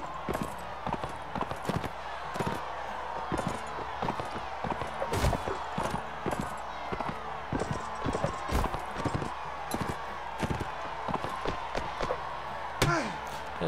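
Rapid galloping horse hooves from Mount & Blade Warband clatter in a steady, loud rhythm, punctuated by sharp thuds and impacts during a tournament ride.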